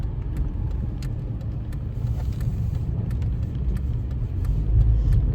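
A 2012 car drives along smoothly, its low road rumble and engine hum steady throughout with faint rattles and ticks from the cabin, swelling slightly near the end.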